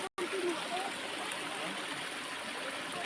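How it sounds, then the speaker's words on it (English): A small overflow stream on a farm in central Portugal runs steadily, producing a constant broad wash of flowing water that stays even throughout. "This is not the Levada, this is an overflow stream."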